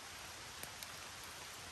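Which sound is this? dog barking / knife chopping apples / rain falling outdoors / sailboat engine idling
rain falling outdoors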